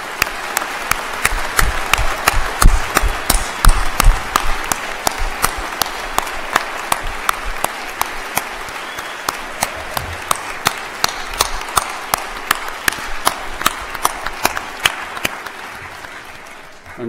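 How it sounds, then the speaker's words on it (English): Sustained audience applause for bachelor's degree recipients at a University of New Brunswick convocation ceremony, a dense steady wash of many hands clapping throughout, loud and continuous before tapering slightly at the end. "Why don't we have a round of applause for all our bachelor's degree recipients?"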